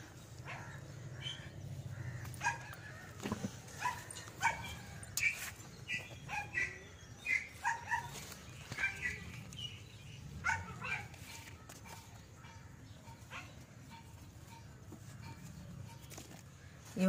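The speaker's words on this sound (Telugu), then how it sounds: "మా కుక్కలు స్టార్ట్ అయినాయండి అరవడం" Several dogs bark in repeated, uneven bursts around a home garden during a garlic harvest, moderately distant, with birds chirping in the background.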